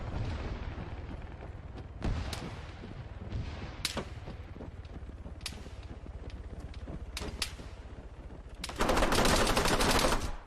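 Sustained automatic fire from a SPAR 16 rifle with a drum magazine in a video game, dense rapid bursts with sharp cracks throughout, swelling into a louder continuous roar near the end.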